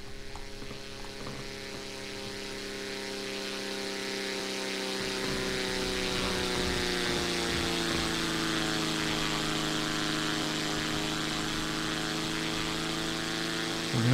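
Zlin Z-142 propeller plane engine in a flight simulator video game, flying an air show pass and loop over a runway: a steady, droning propeller hum with a strong tone that shifts slightly in pitch, loud and continuous with no talking.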